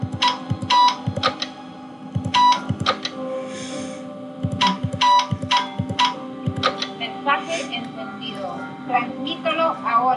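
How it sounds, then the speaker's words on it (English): Morse code signal in the Nancy Drew game Secret of the Scarlet Hand, heard as rhythmic clicking taps in short and long groups over a steady hum, with talking in the background. "Morse code."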